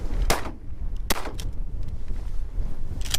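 Shotguns are fired at ducks during a hunt in a blizzard with snow, ice and 40 mph wind. Two sharp, loud blasts sound about a second apart, then another shot follows, over a constant roar of wind.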